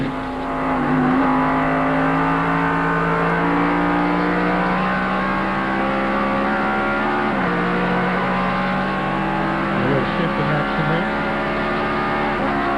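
Race car with a Jericho straight-cut gear transmission at Watkins Glen in 1995, its engine droning loud and steady with pitch dips and rises through downshifts, a continuous close roar throughout.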